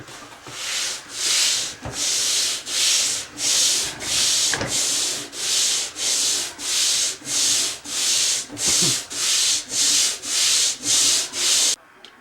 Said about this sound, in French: Ce que j'ai utilisé là-dessus, c'est un papier sablé numéro 80.